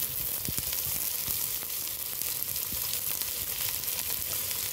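Carrot, cabbage, curry leaves, capsicum, green chili and tomato sizzle in a pan, a steady close hiss with occasional stirring scrapes and no voices.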